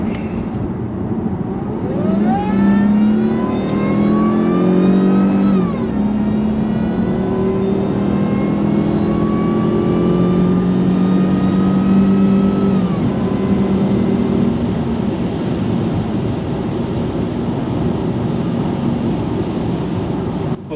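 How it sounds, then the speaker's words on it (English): A Jaguar S-Type R with a newly replaced rear gearbox mount pulls away on a test drive, its engine rising smoothly through the gears in long climbing sweeps, then settling into a steady cruising drone with road and wind noise. "Right, let's go out for a test drive."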